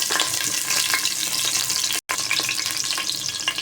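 Garlic sizzles and crackles in hot oil in a pan with a steady, close frying hiss, and a brief break comes midway.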